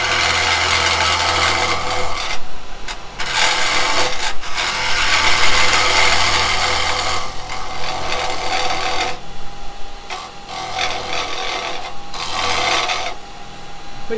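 A pine plant pot is turned on a wood lathe with a square carbide chisel, giving loud, rasping scraping cuts in bursts separated by short pauses.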